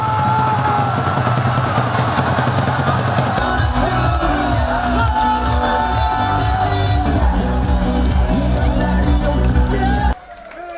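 Around 2,000 Korean football fans in a park erupt in loud cheering for an equalising goal, a dense roar of shouts and whoops with a steady rhythmic beat underneath that cuts off abruptly near the end.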